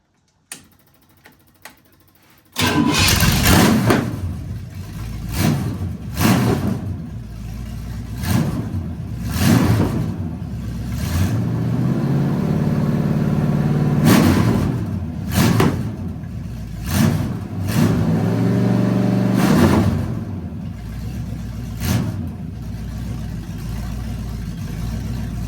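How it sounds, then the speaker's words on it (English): Small-block Chevrolet V8 engine cranks and fires up after a brief quiet start, then revs repeatedly in loud, close bursts that rise and fall over a steady rumbling idle. "And the sweet sound of Chevrolet."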